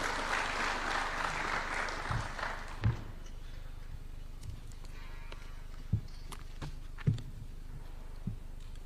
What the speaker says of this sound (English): Why don't we welcome him with a warm clap as he approaches the stage.